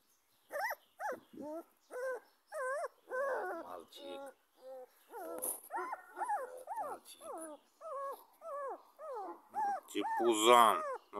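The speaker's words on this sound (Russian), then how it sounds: "Это страшный собак." A young dog, a puppy, barks, yips and whimpers in a rapid string of short high calls that get louder near the end, close to the microphone, with some talk mixed in.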